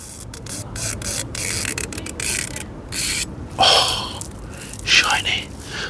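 Plastic wheel caps being clicked and pressed onto the wheels of a Volvo V70 T5 estate, giving a run of close, sharp snaps, ratcheting clicks and scuffs with a few louder pops near the end.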